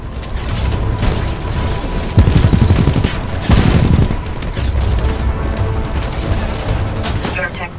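Rapid bursts of gunfire and mechanical clatter from enemy units in the video game Titanfall 2, loud and continuous, with heavier booming hits, played over music and game sounds.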